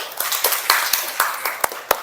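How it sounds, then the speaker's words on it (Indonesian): Students in a classroom clap their hands together after their presentations. The claps are scattered and uneven, fairly close, and rise to a few sharp louder claps near the end. Faint voices can be heard underneath. "Tepuk tangan dulu buat kalian semua."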